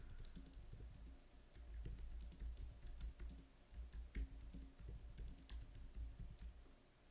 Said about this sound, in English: I just be typing too fast.